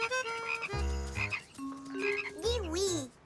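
Frogs croak in a cartoon street scene, a run of loud, close, bouncing and warbling calls in quick succession with short gaps between them, heard alone without talk.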